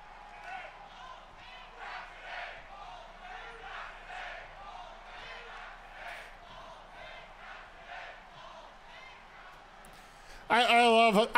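Video game wrestling crowd in WWE 2K24 producing a steady, moderate roar of cheering and chanting throughout, with a louder burst right at the end.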